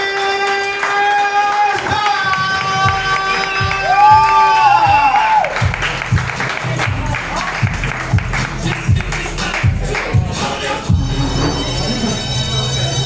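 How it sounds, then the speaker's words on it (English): A comedy crowd at Filomena's Pizzeria & Ristorante in Sanford claps and cheers. Held vocal tones come first, then rhythmic clapping builds with shouts and whoops from many people nearby. "So please, clap it up, clap it up, clap it up."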